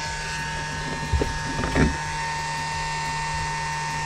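A pressure washer pumping while powered by a generator during car detailing, a steady mechanical hum with a constant tonal whine, interrupted briefly by a few clunks and a short surge midway.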